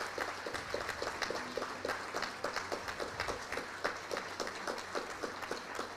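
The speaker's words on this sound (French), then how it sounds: "Puis je demanderai aux membres de les applaudir pour leur travail." Members at a credit union's annual general meeting applaud its employees, a sustained round of rhythmic clapping from a modest crowd, fairly soft and even throughout.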